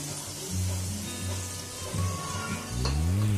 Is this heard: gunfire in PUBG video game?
no